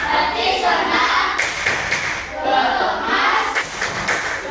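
A class of young schoolchildren claps hands together in a rhythmic chant-like pattern at the end of a lesson, loud and close, with thumping claps and children's voices mixed in.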